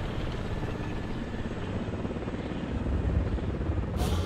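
A Mi-28 attack helicopter in War Thunder gives off a steady, low rotor drone, moderately loud and unbroken, with a brief brighter rush of noise near the end.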